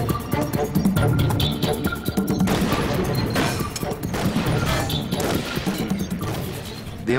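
Barrett M107 .50-caliber semi-automatic rifle firing in rapid succession, a dense run of sharp cracking shots with metallic mechanism clatter, loud and continuous across the stretch.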